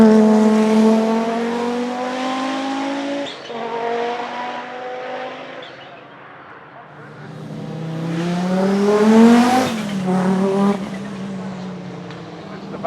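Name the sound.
five-cylinder turbo race car engine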